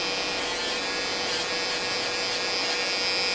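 A cheap electric nail machine files gel nail off a fingernail, giving a continuous high-pitched whirring grind close up, steady and unbroken for a few seconds with no talking.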